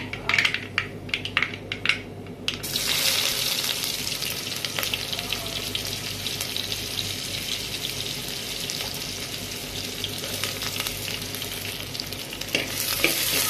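Onions sizzle and crackle loudly in hot oil for brinjal drumstick sambar, with a few sharp stirring clinks at the start, then a steady, dense frying hiss throughout.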